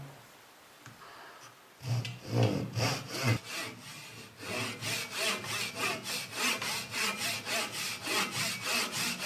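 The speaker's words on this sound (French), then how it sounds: "Donc là je scie plutôt dans le sens de la longueur." A fine-toothed hand saw cuts wood lengthwise in steady, regular back-and-forth strokes, close and rasping, after a few slower starting strokes.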